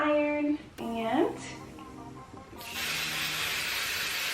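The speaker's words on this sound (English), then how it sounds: "I'm just gonna spray it." Spray adhesive hisses from an aerosol can onto sweatshirt fabric in a sustained burst over the last couple of seconds, following a stretch of talking and handling noises.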